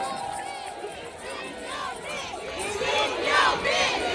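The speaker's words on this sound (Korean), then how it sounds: "자 여러분 다시 한번 뜨거운 박수 보내주시기 바랍니다" A festival crowd at the Tongyeong Hansan Battle Festival stage cheers and claps, with rising shouts and whoops over a steady crowd roar that swells louder toward the end.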